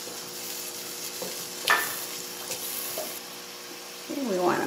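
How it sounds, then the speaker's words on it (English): Mongolian beef with brown sugar is stirred in a hot pan, giving a steady low sizzle broken by a few sharp scrapes and clinks of the utensil, with a brief faint voice near the end. "so I'm just going to stir this up a little"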